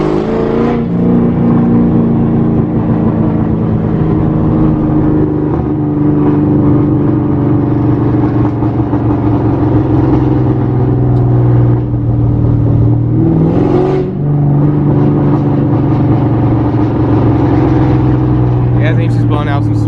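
A boosted Ford Mustang GT engine warms up at idle with a steady low rumble, rising briefly in a few revs, close to the microphone.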